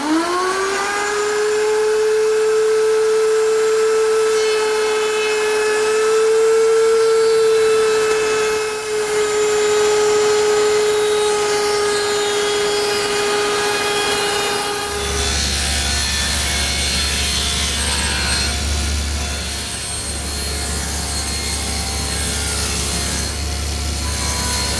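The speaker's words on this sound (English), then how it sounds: "So I've set up my router table with a 1/4 inch rounding over bit and a couple feather boards to hold the stock in place." A router table fitted with a 1/4 inch round-over bit and feather boards spins up with a rising whine, then rounds the corners of a 3/4 inch square wooden strip as a loud, steady cutting roar with a deeper rumble in the second half.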